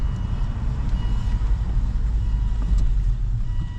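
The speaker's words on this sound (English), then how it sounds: "We're driving around the car park" A Volvo V70 car rolls slowly around a car park, its engine and tyres giving a steady, loud low rumble from inside the cabin, with no one speaking.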